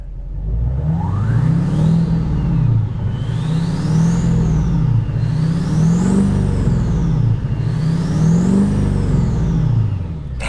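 A pickup truck engine revs repeatedly in four rising-and-falling sweeps, each bringing a loud turbo whistle that climbs and fades over a deep engine drone, close and with no talk.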